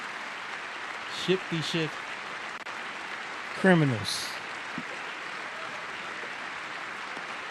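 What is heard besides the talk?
crowd applauding a man released from prison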